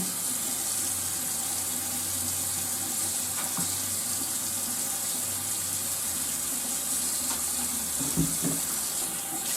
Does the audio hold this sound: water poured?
yes